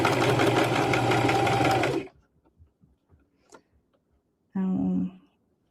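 A sewing machine runs in a fast steady burst for about two seconds, goes quiet with a few faint clicks and handling sounds, then stitches again briefly in reverse for a back tack, close and clear with no talking.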